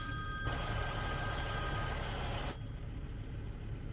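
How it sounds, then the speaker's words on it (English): A phone rings with an incoming spam call inside a heavy-haul truck cab, the bell tone steady and fairly loud over the truck's low engine rumble before cutting off, leaving only the engine drone. "My phone is hooked up to the stream. Just got one of them spam phone calls."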